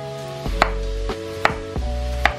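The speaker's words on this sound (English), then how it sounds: "I peeled the cucumber and now I'm just gonna chop it up" A knife chops through a peeled cucumber on a board in a kitchen, three crisp thuds about a second apart, close and clear, over a steady background hum.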